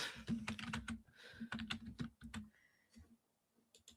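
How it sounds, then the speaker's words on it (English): Rapid clacking on a computer keyboard, close and fairly crisp, in quick bursts that thin out into a few last taps with a short pause in between. "I was typing something."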